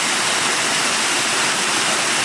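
A waterfall in the woods at night gives off a loud, constant broadband rush that fills the whole clip without a break.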